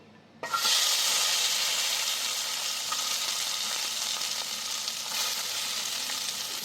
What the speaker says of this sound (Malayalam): നമ്മളിപ്പോൾ അടുത്തൊരു ചെറിയൊരു പാനിൽ കട്ട് ചെയ്ത് വെച്ചിട്ട് ഉള്ളിനെ റോസ്റ്റ് ആക്കാം. എണ്ണ ചൂടായിട്ടുണ്ട്.